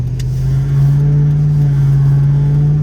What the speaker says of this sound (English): I'm not sure what that noise could be. Huh. Sounds like maybe a serpentine belt.